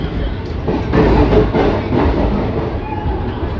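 The Visakhapatnam-Bhubaneswar Intercity Express rolls into Brahmapur station at night, a loud, close, continuous rumble of wheels and carriages with some clatter over the rails.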